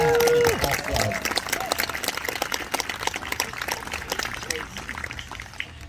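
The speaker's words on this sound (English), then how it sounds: "Could you give them another huge round of applause, the Yomkin and Pinnacle Golf Club?" Audience gives a round of applause at an evening march event for a high school band, a dense wash of clapping heard beneath talk.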